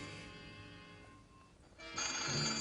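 A telephone rings with a steady electronic trill, fairly quiet and alone, the tone brightening and growing slightly louder near the end.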